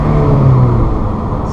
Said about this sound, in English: I don't know if you guys can hear the engine noise